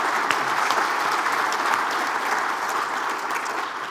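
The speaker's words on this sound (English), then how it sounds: "I want everyone to give the panel a round of applause" An audience applauding a panel at a logistics conference session, steady sustained clapping from a crowd that holds at an even level throughout and tapers very slightly near the end.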